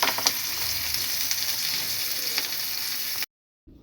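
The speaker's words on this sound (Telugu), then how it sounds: "వేగిపోయిన పోపు గ్రైండ్ చేసుకున్న పచ్చడిలో వేస్తున్నాను" Fried tempering is poured into ground cucumber chutney, giving a loud, steady sizzle for about three seconds that then cuts off abruptly.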